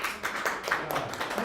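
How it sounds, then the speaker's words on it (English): Applause from a small meetup audience at a testing event in New York, fairly brief and moderately loud, with a scattering of distinct claps rising and falling over about a second and a half. "Let's give a round of applause for Umer."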